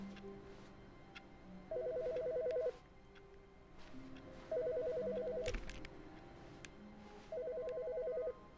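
Telephone ringing in the video game The Stanley Parable, three evenly spaced electronic ring bursts of about a second each, moderately loud against a quiet background with faint scattered sounds between rings.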